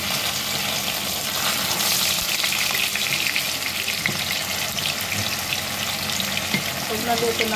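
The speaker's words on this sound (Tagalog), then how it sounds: "I-fry po natin yun hanggang sa mag-brown po siya guys." Extra firm tofu fries in a pan with a loud, steady sizzle and crackle that hisses continuously and evenly throughout, with no voices.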